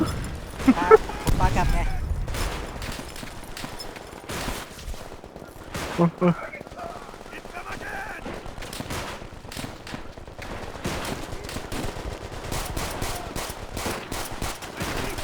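Dense bursts of rapid gunfire crackle throughout a Call of Duty: World at War battle, with sharp shots piling up alongside occasional heavier booms, while voices talk over the fighting.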